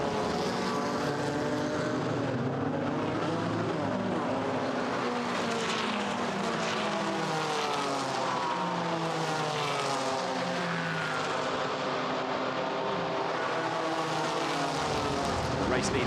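GT4 race cars roar continuously at Monza, engines rising and falling in pitch as the pack passes through the Roggia chicane. A commentator talks over them.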